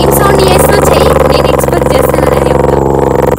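A person mimics a motorbike engine with their voice, a continuous buzzing drone held for about three seconds at steady, loud volume with a slight rhythmic flutter.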